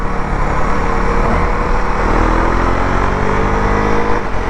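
Husqvarna Svartpilen 401 motorcycle being ridden, a loud continuous engine drone with wind rush and rising tones as it accelerates, filling the whole stretch.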